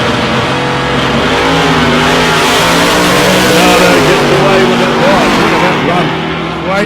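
Big-block Chevy drag race cars at South Coast Raceway: a loud, dense engine roar under hard acceleration, continuous and near, with an announcer talking over it.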